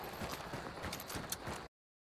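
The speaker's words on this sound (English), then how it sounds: "Yeah, running footsteps directly on my left." Running footsteps in Hunt: Showdown, a quick rhythmic patter of close, fairly loud steps that continues steadily for under two seconds with nothing else over it.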